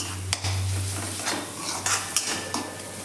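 Roasted onion and dry coconut mixed with masala paste for a dhaba-style egg masala, stirred in a pan with a gentle sizzle and several sharp scrapes and taps of the spoon on metal, close and without speech.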